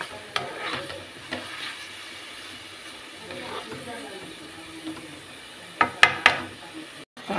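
Grated bottle gourd fries in ghee in a pan, a low sizzle under intermittent stirring scrapes and a few sharp clicks of a spoon against the vessel.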